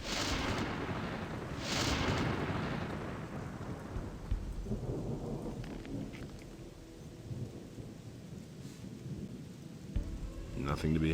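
A lightning storm in the video game Gothic II brings heavy thunder cracks at the start and rumbling over constant rain, fading to quieter rain with scattered clicks and thumps.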